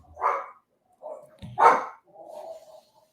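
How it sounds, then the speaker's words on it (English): A dog barks several times in the background, giving sharp, fairly loud barks in an irregular series with short gaps between them, and no talk over them. "you've got a vicious dog in the background there"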